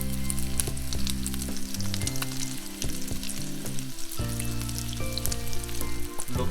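Butter sizzles loudly in a pan alongside a frying canned-tuna hamburger steak, a steady close crackle with light stirring or scraping sounds throughout.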